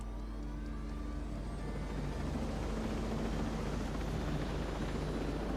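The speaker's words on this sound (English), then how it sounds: "it's not that far for a helicopter at least" Helicopter in Ghost Recon Breakpoint, a continuous loud rotor and engine drone with a low steady rumble throughout, no speech over it.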